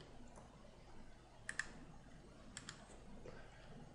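Quiet computer mouse clicks: two pairs of quick, faint clicks close to the mic, with a few softer taps, over low room hiss.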